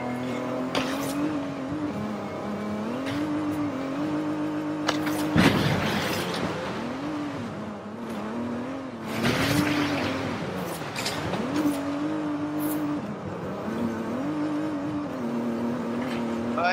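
A Mazda Miata driving through woodland at the base of a volcano in Forza Horizon 5, its engine note rising and falling through repeated gear shifts, with bursts of tyre noise and heavier thumps at intervals.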